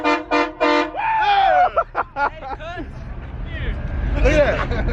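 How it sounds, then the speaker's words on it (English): At a car meet, a train horn fitted to a car blasts in several short loud toots, then a longer honk, over crowd chatter, with cheering voices and vehicle rumble building toward the end. "We are back over here with the train horns."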